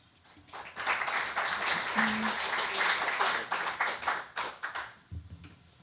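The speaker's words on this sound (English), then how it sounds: "I'm so appreciative to receive applause" A luncheon audience applauds to welcome Milwaukee Police Chief Jeffrey Norman, a swell of many hands clapping indoors that holds for several seconds and fades, followed by a brief voice.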